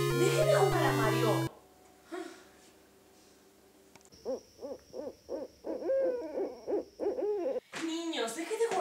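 Owls hoot around children at play in a rapid, close series of short hoots under a thin steady whine, after a burst of loud music or voices at the start.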